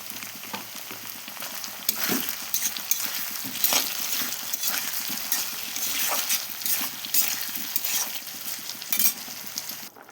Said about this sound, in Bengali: মশলা কষানো আলুটা দিয়ে দিলাম